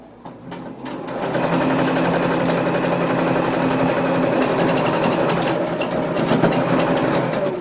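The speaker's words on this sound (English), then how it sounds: "now she's just going to sew a line all the way down around to nail those pleats down" A sewing machine stitches a line down the length of a fabric tree skirt to secure its pleats, running in a steady, continuous mechanical whir from about a second in until the end, close and fairly loud.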